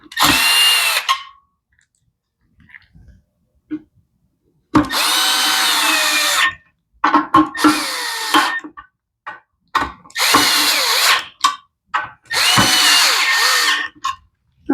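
A power driver running 5/16 bolts to refit the air box on a McLane edger, with several loud bursts of whirring, each a second or two long, separated by pauses and small metallic clicks and handling noises.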